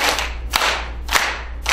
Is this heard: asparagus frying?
no